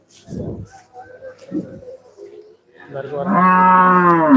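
At the Manapparai cattle market in Tiruchirappalli district, a single cow gives a loud, sustained moo close by after a few brief murmurs and clatters.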